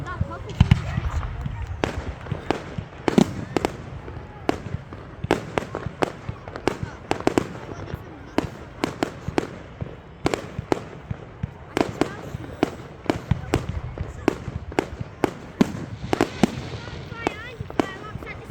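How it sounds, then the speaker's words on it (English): Loud Bonfire Night fireworks in Elgin, 2022, popping and banging in a dense, irregular barrage of sharp reports throughout, with crowd murmur and voices beneath. "Fireworks are cutting out loud noises."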